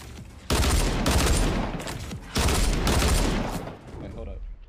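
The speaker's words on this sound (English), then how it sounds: "I got shot at." Gunfire in the video game Fortnite, two long loud bursts of rapid shots separated by a brief pause, with the second tailing off into quieter noise; a voice is faintly present in the mix.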